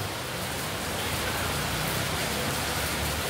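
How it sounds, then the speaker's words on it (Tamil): Steady rain falls outdoors around a temple during a Navaratri festival in Neyveli, a continuous, even hiss of drops with no voices. "இங்கே சுற்றி மழை பெய்து கொண்டிருக்கின்றது"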